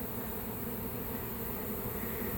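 A dense swarm of honeybees roars around a mobile home during a removal in Lakeland, Florida, a loud, constant buzzing drone close by with no talk.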